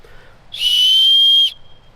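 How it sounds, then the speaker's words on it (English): One shrill, steady blast from an orange emergency whistle built into a backpack clip lasts about a second, loud and close, then cuts off sharply against a quiet background. "built-in emergency whistle"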